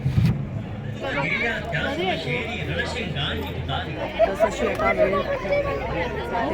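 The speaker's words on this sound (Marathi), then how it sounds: "आता गर्दी पाहायला मिळते" A dense crowd chatters at the Misal food festival in Borivali, a busy outdoor babble of many voices with a few nearer speakers standing out over the hubbub.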